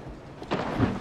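Rain and thunder in the Resident Evil 7 video game: a soft low rumble gives way to a broad, steady wash of storm noise halfway through, with no talking.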